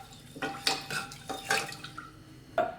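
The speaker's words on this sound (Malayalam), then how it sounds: "ഇതിൽ നമുക്ക് കുറച്ച് ഉപ്പ് ചേർത്ത് കൊടുക്കാം. അതിനുശേഷം നന്നായിട്ടൊന്ന് മിക്സ് ചെയ്തെടുക്കാം." Cooked rice being stirred with salt in a bowl for curd rice, a few clinks and scrapes of a spoon against the vessel, close and moderately loud, with short gaps between strokes and no talking.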